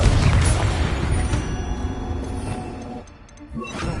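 Confringo fire spell explosion in the video game Hogwarts Legacy, a loud booming burst that rumbles and fades over a few seconds before some quieter effects.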